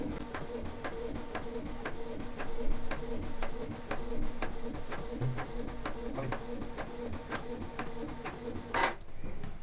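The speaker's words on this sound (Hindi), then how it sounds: "तो भाई प्रिंट निकल रही है हमारे पेपर के ऊपर।" Printer printing a photo onto paper for a T-shirt transfer, a steady mechanical whir with regular ticking clicks of the print head moving back and forth, close and moderately loud, ending in a final rattle.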